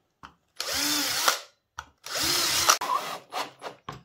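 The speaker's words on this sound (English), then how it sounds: "I pre-drilled the holes for the dust tunnel roof" A power drill pre-drills screw holes in wood for the dust tunnel roof of a bottom plate assembly, giving two loud whirring bursts of about a second each, then several short trigger pulses, close and with no talking.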